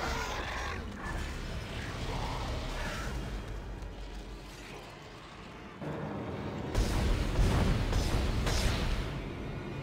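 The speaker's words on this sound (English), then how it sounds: "Yeah, I need to open this door." A heavy mechanical door opens in the Dead Space video game, giving off grinding, creaking metal and low rumbling movement that swells louder toward the end.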